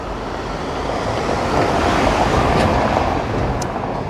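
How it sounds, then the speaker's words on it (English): Busy traffic rattles over stone setts on a narrow street in Stockbridge, Edinburgh, a steady, loud roadway rumble with no voices. "when it's busy you can hear the rattling of the traffic over the sets"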